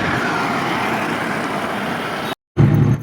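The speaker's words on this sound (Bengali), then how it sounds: "অটোটাও জোরে টানছে বেশ।" An auto rickshaw engine drives along a main road in the morning, a steady, close rumble that cuts out briefly near the end and then returns louder.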